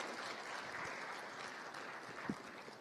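An audience at a Speak For Africa conference session claps together in a steady, dense wash of applause that lasts throughout, with one sharper thump near the end.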